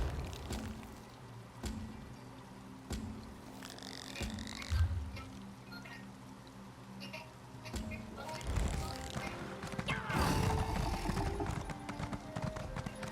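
Hooves of a summoned horse in the fantasy game The Elder Scrolls Online, soft rhythmic clip-clop steps under ambient game sounds and croaking frogs, with a brief snort and rustling later, no talk.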